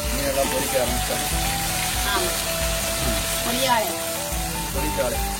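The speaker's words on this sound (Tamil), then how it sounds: "மீனெல்லாம் பொரிக்க ஆரம்பிச்சாங்க." Fish sizzles and crackles steadily as it fries in oil, with a busy, noisy restaurant kitchen in Marthandam and people talking over it throughout.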